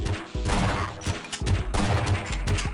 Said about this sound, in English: Dude, stop shooting me, bro.